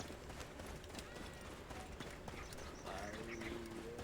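Horse hooves clip-clop at a stable in the video game Assassin's Creed Origins, a quiet, steady patter of steps under faint ambient game sounds.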